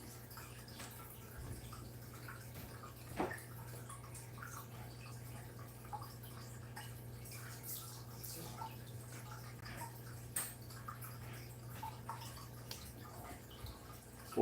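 Water trickles and drips steadily during upkeep of a 90-gallon aquarium, a soft continuous flow with occasional louder splashes, fairly quiet over a low steady hum.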